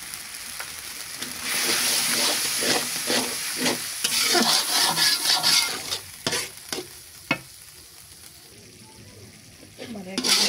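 Spices sautéing in oil for a country chicken roast: steady, loud sizzling with repeated scraping stirs and short clatters that fade to quieter frying, with someone speaking at times.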